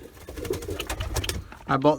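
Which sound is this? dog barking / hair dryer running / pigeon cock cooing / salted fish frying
pigeon cock cooing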